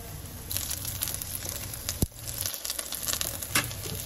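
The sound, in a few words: ukoy (Filipino fritters) frying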